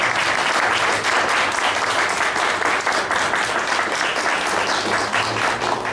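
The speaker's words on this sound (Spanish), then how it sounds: "les voy a pedir un aplauso para la banda" Sustained, fairly loud applause from an audience for a live band at a reunion of the 1964 graduates of the Escuela Normal de Zapala, dense clapping continuing steadily throughout.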